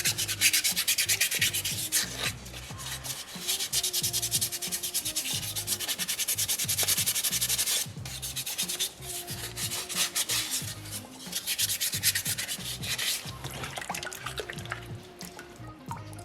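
Sandpaper rubs steadily over a soapstone polar bear carving, a continuous gritty scraping in close, loud back-and-forth strokes with a brief pause near the middle and no talking.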